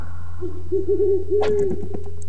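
A bird in the video game Dreamscapes gives a short warbling, hooting call followed by a sharp snap and rustle as it is driven off with a slingshot, heard over a low steady hum.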